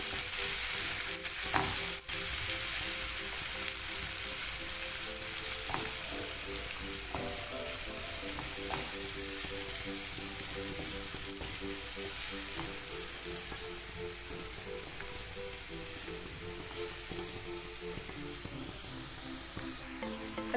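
Two medium chopped onions sautéing in a pan, an even, continuous sizzle held close and steady throughout, with a few sharp spoon taps early on.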